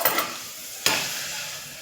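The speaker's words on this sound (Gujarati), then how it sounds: "આ કુકરમાં કોણ આવી રીતે પાપડ તરાય કોઈ દી?" Papad fries in hot oil inside a pressure cooker, a bright bursting sizzle that flares at the start and again midway before hissing down, close and alone without speech.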